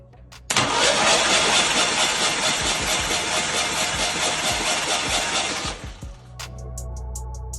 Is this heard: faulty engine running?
yes